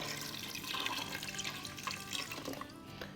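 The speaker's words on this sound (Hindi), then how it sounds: "तो ये मैंने 3 कप पानी डाल दिया है" Water poured into a cooking pot holding black chickpeas and potatoes for a chaat, a steady continuous splashing pour running throughout with no talk.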